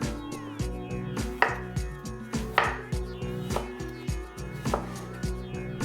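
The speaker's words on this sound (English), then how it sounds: "Cut the cucumber into thin slices." A knife slicing cucumber into thin slices on a board, a quick run of crisp rhythmic cuts, close and clear, with no talking.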